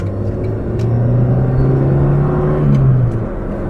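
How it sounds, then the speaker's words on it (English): A 1992 Nissan Micra 1.2 GSX with the K10 engine revs loud and gruff from close by. A rorty drone rises and falls steadily for several seconds, with no talking over it. "loud, that engine, a bit gruff."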